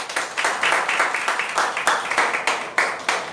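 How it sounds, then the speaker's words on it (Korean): Audience applause at a Catholic cultural center lecture on resource recycling and renewable energy, a dense run of rapid hand claps from a seated crowd, steady and fairly loud, with no speech. "큰 박수로 맞이해 주시기 바랍니다"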